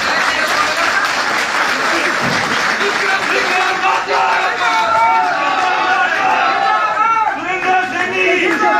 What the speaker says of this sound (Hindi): एक बार जोरदार तालियों के साथ में हमारे